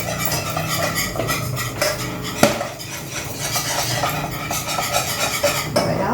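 A utensil scrapes and clinks steadily around a metal saucepan, stirring blanquette de veau continuously at close range, with an occasional sharper knock against the side.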